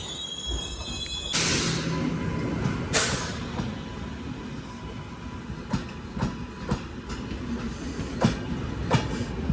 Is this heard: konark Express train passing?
yes